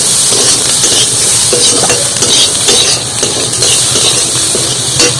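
Chana dal frying in a pan, giving a steady close sizzle and hiss with faint stirring scrapes and light clinks throughout, no talking.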